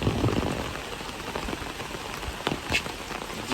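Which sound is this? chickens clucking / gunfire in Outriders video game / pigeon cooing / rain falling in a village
rain falling in a village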